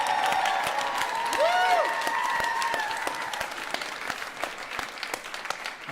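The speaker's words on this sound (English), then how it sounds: "I would love for a moment to give a round of applause to all of our techs, stagehands, everyone who makes this work" A convention masquerade audience applauds the stage crew, sustained crowd clapping with some cheering, fading slightly toward the end, with a brief whistle-like tone sounding over it.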